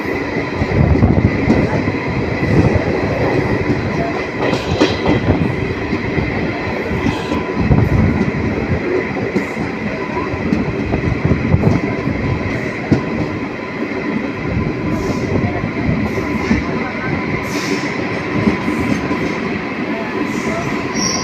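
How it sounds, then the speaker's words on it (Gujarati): A passenger train pulls out of Songadh station on the Dhola to Bhavnagar line, with a loud, steady rumble of wheels on track, rhythmic clatter and occasional squeals, heard from inside the carriage. "આપણે ટ્રેન સોનગઢ સ્ટેશન પરથી નીકળી ચૂકી છે."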